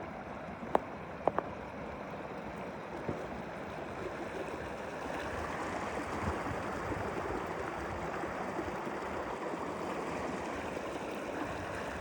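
A stream at a trail crossing on the Appalachian Trail: water rushes and burbles steadily in a continuous broadband wash, close and even, with a couple of faint clicks near the start.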